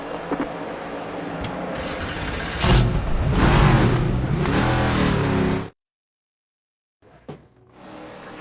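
Race car in NASCAR 25 at Bristol fires up and revs hard, a loud rising engine roar for several seconds before cutting to silence, then faint sounds return.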